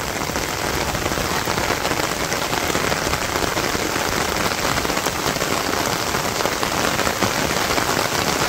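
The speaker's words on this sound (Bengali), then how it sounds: "খুবই সুন্দর বৃষ্টি।" Steady rain falls on a Bangladeshi village in a dense, even hiss of drops hitting surfaces, close and constant with no voices.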